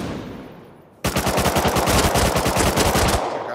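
Rapid automatic gunfire from a Tommy gun in the survival game Rust bursts in loud and close after a second of quiet, then hammers on in a steady, fast rhythm to the end.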